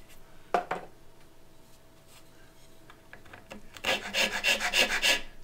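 Rasp filing a wooden guitar bridge by hand: a couple of isolated scraping strokes early, then a denser run of rapid, rhythmic rasping strokes close by near the end, with no talk.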